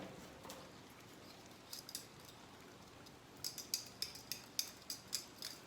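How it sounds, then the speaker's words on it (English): Scissors snipping stems for a fall wreath, faint scattered clicks early and then a quick run of about ten crisp snips near the end against quiet room noise. "So again, I'm just taking the stems,"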